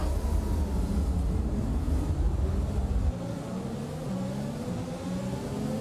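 F1 race cars starting the Austrian Grand Prix in heavy rain in the F1 2021 video game: a dense, loud engine roar at the launch that drops to a steadier, quieter drone of revving cars with spray noise.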